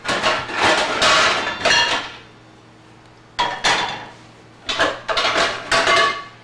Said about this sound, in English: I'm going to actually get my pans going for the fish.